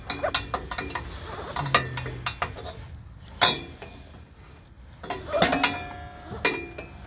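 A ratchet strap on a trailer is cranked tight in bursts of metallic clicking and rattling, with scattered clanks and short pauses between pulls, close by and without talk.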